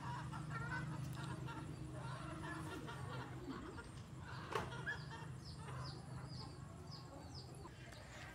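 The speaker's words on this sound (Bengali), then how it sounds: "বাবা অনেকগুলো মুরগিও আছে এই বাড়িতে, হাঁস মুরগি দেখেন কি সুন্দর সুন্দর" Ducks and chickens at a rural house cluck and call repeatedly at moderate distance, a busy scatter of poultry sounds over low background noise.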